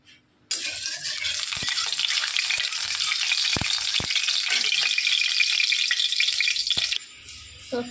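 Food frying in a wok starts abruptly as a loud, steady, hissing sizzle that holds for several seconds, with a few soft utensil knocks, then cuts off near the end.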